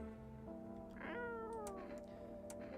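A pet cat in the video game No I'm Not a Human gives a drawn-out meow with a rising, then falling pitch, set over a steady background drone.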